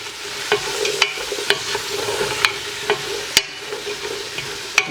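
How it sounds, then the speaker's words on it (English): Vegetables for soup sauté in a pan alone, a steady soft sizzle broken by sharp clicks and scrapes of a utensil stirring at irregular intervals. "We're going to saute all this up together."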